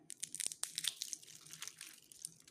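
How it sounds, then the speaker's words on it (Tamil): Brittle sun-dried ripened green chillies snap and crunch between fingers, sharp close crackles scattered irregularly over a soft rustling background. "நல்லா பொடியாக கிறிஸ்பியாக காஞ்சு எப்படி க்ரன்ச்சியாக சவுண்டு கேட்குது பாருங்கள்"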